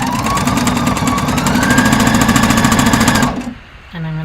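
A sewing machine stitches a dart on a dress, running loud and close in a fast, even mechanical rattle for about three seconds before it stops, then a short tonal sound follows.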